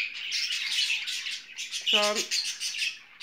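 Jumbo budgerigars chirp and chatter continuously in a courtship display, a busy high twittering with one louder squawk partway through, while a person speaks briefly over the birds.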